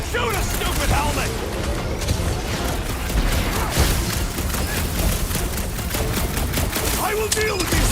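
Rapid gunfire in the Guardians of the Galaxy game, a dense, loud fusillade of sharp repeated shots and mechanical clatter running throughout, with voices talking over the battle.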